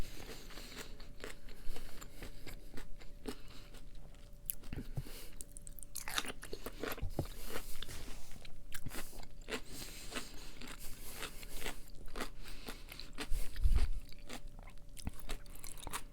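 Wet crunching and chewing of a spicy Tabasco sauce pickle, close to the mic, with irregular bites and mastication continuing throughout without talk.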